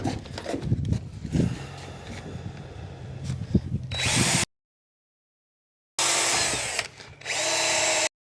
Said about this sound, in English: I'm just gonna drill another hole here because we can't really get another hole down here